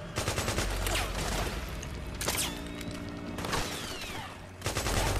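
Sustained automatic gunfire in Metal Gear Solid 4, loud dense bursts of rapid shots with crashes and booms, pausing briefly mid-way before another heavy volley near the end.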